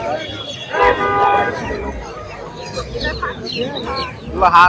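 Chickens cluck in a busy outdoor bird market selling ducks and poultry, with crowd noise and talking around them and a constant bustle underneath.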